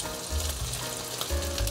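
Glutinous rice sausage pan-frying in warm oil gives a steady, close sizzle with a few brief crackling swells, lasting under two seconds.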